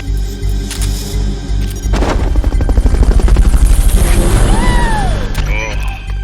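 A helicopter in the video game Metal Gear Solid: Peace Walker starts a loud, steady, rhythmic rotor chop partway in that continues to the end, with rising whistling tones near the close.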